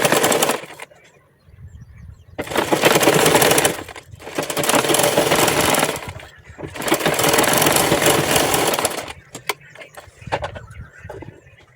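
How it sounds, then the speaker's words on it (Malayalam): A sewing machine stitches a readymade neck onto a kurti in several sustained whirring bursts separated by short pauses, close and fairly loud, with soft handling clicks in between. "ആ നെക്കിൻ്റെ ആ സെയിം അടയാളത്തിൽ കൂടി തന്നെ നമുക്കൊന്ന് സ്റ്റിച്ച് ചെയ്യാം."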